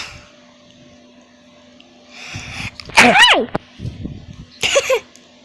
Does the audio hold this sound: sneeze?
yes